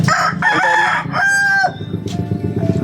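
A rooster crows nearby, a loud drawn-out cock-a-doodle-doo in several harmonic-rich phrases, followed by softer clucking from chickens.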